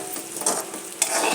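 Curry being stirred in a frying pan, a soft sizzle under brief scraping strokes of a spoon, two sharper scrapes standing out, close and moderately loud with no talk.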